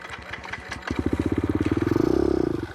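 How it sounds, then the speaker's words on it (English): A 2019 Kawasaki KLX 110 dirt bike engine catches after a few clattering cranks, then settles into a rapid, even putter of idling close by, with no talk. "So let's get the bike started."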